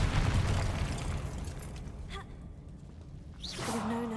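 Confringo, a fiery explosion spell in Hogwarts Legacy, goes off in a low, rumbling boom that trails off with a whooshing decay, followed by a brief rising swish and a tonal game sound near the end.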